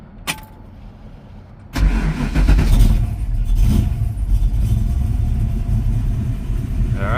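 An old car engine cranks and catches with a sudden roar, then settles into a loud, steady running rumble with light revving, close by and with no talk over it.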